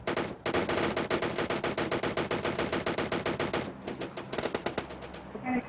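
Rapid automatic gunfire rattles in a video game, a long dense burst of close, loud shots followed by a few scattered bursts.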